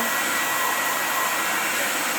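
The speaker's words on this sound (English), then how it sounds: "we're just going to use a hair dryer, and it'll take probably about 30 seconds or so" Hair dryer heating a grip cup for extended grips, a steady, close whooshing blow of air with an electric motor hum, unbroken.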